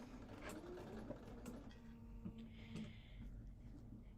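Sewing machine stitching a straight seam through thin fabric for a quilt block, a steady low mechanical hum and rapid needle clatter running continuously at close range.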